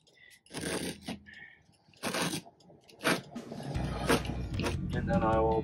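Motorhome carpet being cut in half by hand, with scraping, crunchy cutting strokes in short bursts that give way to a steadier rasp, while a person talks over it.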